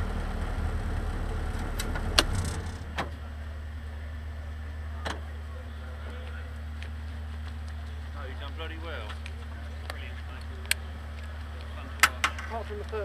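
A Locost race car at Brands Hatch starts up; after a brief cranking burst its engine settles into a steady, low, continuous idle that runs to the end, with a few faint clicks on top.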